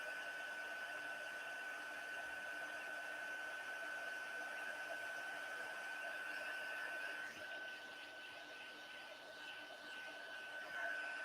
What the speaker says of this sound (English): with your heat embossing, don't overheat